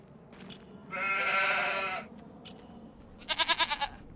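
Goats on a farm bleat twice, a long wavering cry followed by a shorter pulsing one, close and clear over quiet background noise.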